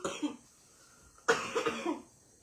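A short cough near the start, then a burst of several harsh coughs in quick succession, close and loud in a quiet room.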